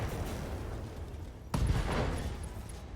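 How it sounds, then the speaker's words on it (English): An SRM ammo explosion in the Battletech video game lands as a sudden loud boom midway, followed by a rumbling crackle that fades over a steady background hum. "Hey, SRM ammo explosion."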